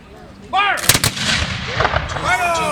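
A loud volley of muskets fires at a Canadian historical battle reenactment. Several sharp overlapping reports and their echoes come close together in under three seconds, with crowd noise in the background.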